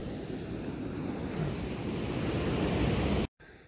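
Steady rushing water, a broad continuous roar of a waterfall close by in Spearfish, cutting off abruptly near the end.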